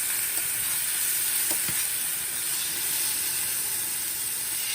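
Beet greens sizzling in a hot pan with melting fat, a steady bright hiss and crackle close up, with a few small pops and no talking.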